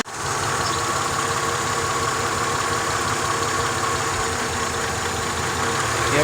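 A 2000 Honda Accord engine with a misfire idles steadily up close during a cylinder drop test with coils unplugged one at a time, giving a continuous mechanical hum with faint ticking.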